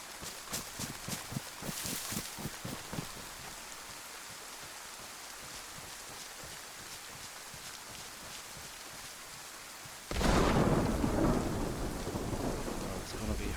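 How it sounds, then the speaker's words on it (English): Heavy rain pours steadily in the DayZ video game world on Livonia, with rumbling thunder; a loud thunderclap bursts in near the end and the downpour continues strongly after it. "Oh, it's going to be hard to hear them in this rain, isn't it?"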